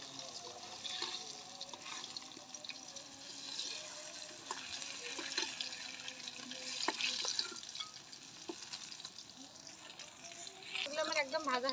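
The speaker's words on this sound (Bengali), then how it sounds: "মাছগুলো আমার ভাজা হয়ে গেছে, উল্টে পাল্টে ভালো করে ভেজে নিয়েছি" Koi fish fry quietly in hot oil in a pan, giving a soft, steady sizzle with occasional scrapes and stirring clicks as the pieces are turned. Low, close, continuous cooking noise runs throughout.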